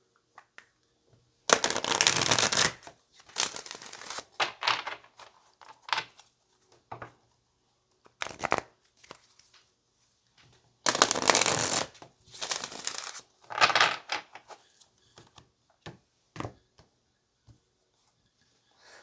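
Tarot cards are shuffled by hand in a quiet room in several separate bursts of riffling and sliding, each a second or two long, with soft taps and pauses between, close to the listener and with no talk.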